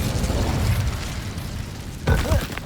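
A fiery Incendio spell in Hogwarts Legacy erupts with a sudden whooshing burst near the end, after a stretch of rumbling combat noise.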